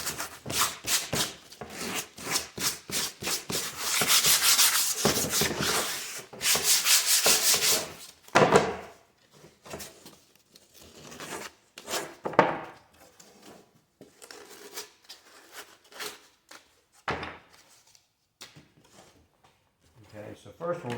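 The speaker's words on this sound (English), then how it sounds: "And then you can just get some sandpaper." Sandpaper rubbed over the wood of a beehive bee escape frame, a steady scratchy rasp in bursts over the first eight seconds, then shorter intermittent strokes and handling knocks at close range.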